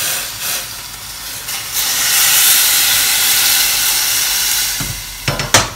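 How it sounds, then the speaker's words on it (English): Hot stock poured into a pan of tomatoes that have been frying for about two minutes sets off a loud, steady hiss and sizzle, with a few clanks near the end. "I'm now going to pour some hot stock into them."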